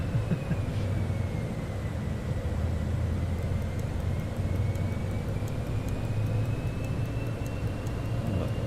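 Cessna Citation X jet engines on approach in Microsoft Flight Simulator 2020, a steady loud roar with a slowly shifting whine and low rumble, continuous throughout with no talk.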